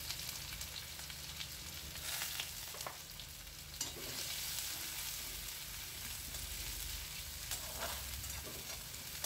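A whole onion sizzles and fries in hot oil with cumin and dried chilli, making a steady, faint, even hiss throughout with a few small crackles.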